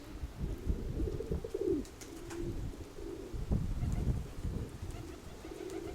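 Grey pigeons coo in a low, rounded voice, with several soft, repeated calls close by over steady background noise and faint scattered chirps.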